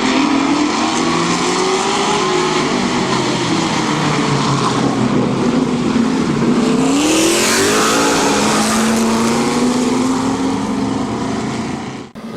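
Late model race cars roar around a short-track oval at Barberton Raceway Park, a loud continuous engine drone rising and falling as the cars accelerate, with a pitch sweep as a car passes close by.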